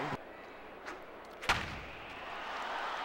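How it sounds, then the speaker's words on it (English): A sharp crack of a baseball bat in an MLB video game featuring Ken Griffey Jr., a single loud hit midway through, with faint crowd ambience and a softer knock earlier. "The crack of that bat, even on like a lazy fly ball to center, oh, it sounded great."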